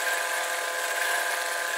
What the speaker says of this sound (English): with our cordless drill.